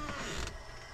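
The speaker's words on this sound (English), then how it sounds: "Hear that air leak?" Steady hiss of an air leak escaping from the red valve of a 1980 Peterbilt 359 truck parked in dirt, a continuous broadband rush that stays fairly even throughout, with a faint creak partway through.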